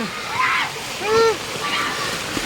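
Floodwater rushes and splashes steadily along a street turned river, while children's voices call out and chatter over it.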